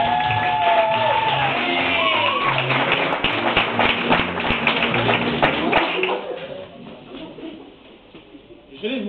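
A comedy club audience in Paris claps steadily, with shouts and whistles as the first comedian is introduced. The dense applause fades after about six seconds, leaving a quieter room.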